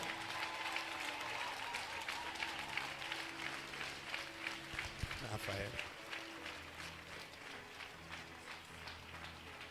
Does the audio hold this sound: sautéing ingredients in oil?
no